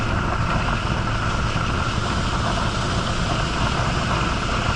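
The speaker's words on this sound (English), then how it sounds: "The wind is going crazy because I'm leaving the windows open" Wind roars through the open windows of a 1986 Subaru GL sedan driving at around 45 mph, a loud constant broadband rush that buries any engine note, with no talk.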